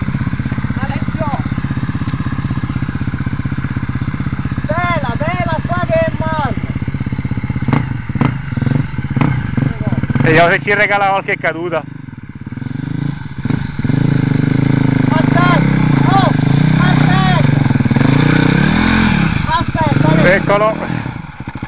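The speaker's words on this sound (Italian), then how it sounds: "Sali sulla moto, prendi la rincorsa." A BMW enduro motorcycle runs up a slippery dirt slope, its engine chugging loudly and surging in revs. Excited voices call out over the engine throughout.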